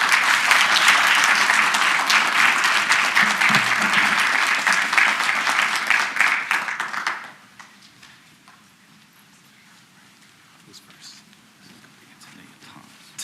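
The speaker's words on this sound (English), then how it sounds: "Let's give them all a round of applause." Applause from an audience at a school board meeting, honouring students and teachers, a dense steady wash of many hands clapping for about seven seconds before it cuts off into quiet room tone.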